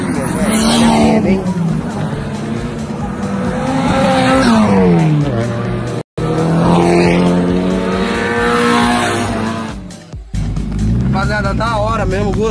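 Drift car engines at a drifting event in Japan, loud roaring and revving with rising and falling pitch across repeated passes, tire noise and crowd babble mixed in, a brief cut midway.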